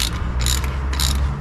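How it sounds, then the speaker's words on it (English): A hand ratchet wrench works a bolt loose on the dogbone engine mount of a Volkswagen Golf Mk5, giving two short bursts of loud, close, rapid pawl clicking over a steady background. "I'm gonna finish it off with the ratchet."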